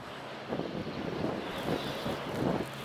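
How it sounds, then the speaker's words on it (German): Storm wind rushing and whistling around the tower and stairway of a wind turbine at a wind farm in strong gusts, a steady broadband roar that swells in several pulses throughout. "jetzt hört man den Wind ein bisschen pfeifen hier am Turm"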